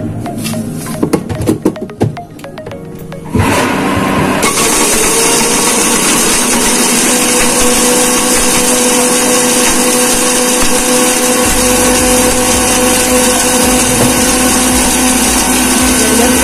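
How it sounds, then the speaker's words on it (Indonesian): An electric blender grinds a mix of whole spices (coriander, cumin, cardamom, nutmeg, cinnamon, star anise) for rendang, starting with rattling bursts before settling into a loud, steady, continuous whir close by. "Ini semua kita satuin di sini terus kita blender."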